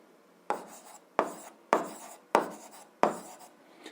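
A pen writes in a notebook in five distinct scratching strokes, evenly spaced, each starting with a firm tap and trailing off, close and quiet against near silence.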